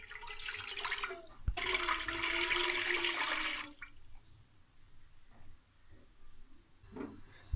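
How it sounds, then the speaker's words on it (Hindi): Water is poured into a cooking pot for making dal, a close, splashing pour lasting a couple of seconds that then gives way to quieter dripping and faint trickles, with no talk. "एक बर्तन में हम 2 गिलास पानी डालेंगे"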